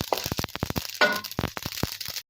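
Sesame seeds and flaxseed dry-roast in a pan, giving off a quick run of sharp, close crackles and pops at an irregular rhythm before stopping abruptly.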